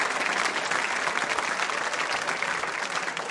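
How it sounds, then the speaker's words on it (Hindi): Audience applause at a school quiz show at Mahaveer Public School: dense, steady clapping from a crowd, loud and even from start to finish with no voices over it. "तालियां जोरों से बजाइए"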